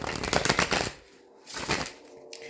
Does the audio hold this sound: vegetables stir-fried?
no